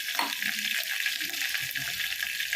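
Large garlic cloves sizzle in a hot pan of rasam, a bright continuous frying hiss that stays close and steady with small crackles.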